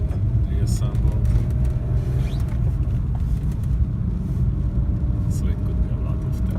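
A BMW car driving, with a steady low road rumble and engine drone throughout and faint intermittent rattles and knocks riding over it; a voice is heard talking.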